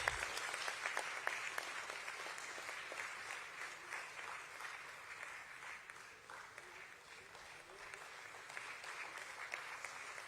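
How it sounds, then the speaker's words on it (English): Audience applauding a woman introduced as a non-independent, non-executive director at a corporate listing ceremony, a steady dense clapping sustained for about ten seconds at moderate level, fading slightly midway, with no voices over it. "I want the loudest applause for this lady, Ms. Jayashree Rajesh"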